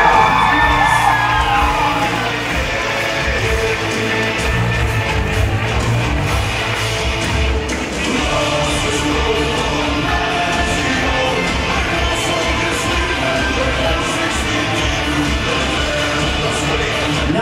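Audience at a high school graduation sash ceremony whooping and cheering in a hall, a loud, sustained crowd roar with yells and shouts throughout.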